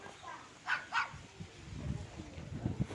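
Two farm dogs bark on a plantation. Two quick, fairly faint barks come close together near the start, followed by lower, softer rustling and movement.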